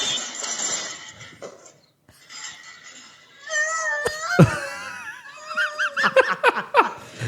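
A boy of about twelve, winded after falling, lets out breathless, strained gasps and wavering moans up close. The sounds come after a quieter stretch and end in short choppy whimpers.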